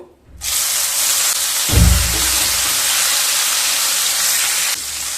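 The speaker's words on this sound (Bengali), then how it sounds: "100 গ্রাম কুচো চিংড়ি ভেজে নেব।" Loud, steady sizzling of small prawns frying in hot oil, starting abruptly, with a brief thud and bubbling burst, then continuing evenly.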